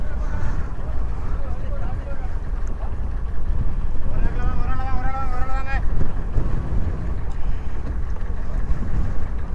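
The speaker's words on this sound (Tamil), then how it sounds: "இப்போ இதில் லோஞ்சி வந்துட்டு இதில் பாருங்கள் வந்தாக்கள் ரங்கினம்." A passenger launch boat arriving at Nainativu island in Jaffna, with a constant engine and water rumble under strong wind buffeting on the microphone, while people talk nearby and a brief horn-like tone sounds midway.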